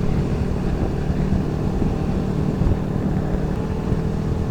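Vespa scooters, probably 300 cc, ride fast past on a road near Kalimalang toward Karawang, their engines a steady loud drone tangled with heavy wind rush and other traffic, with no break.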